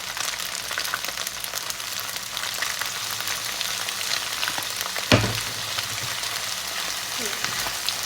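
Pad see ew noodles with egg and vegetables stir-fried in a pan with soy sauce, giving a steady close sizzle with scraping stirs and a sharp knock of the utensil partway through.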